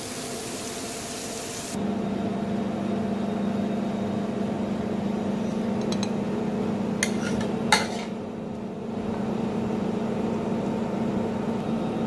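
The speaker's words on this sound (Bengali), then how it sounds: "এখন এটাকে আমি পরিবেশন করার জন্য প্লেটে নিব।" Trofie pasta with octopus and potatoes scooped onto a plate, with a few clinks of utensils and dishes over a steady low kitchen hum, one sharper clatter near the middle, no talk.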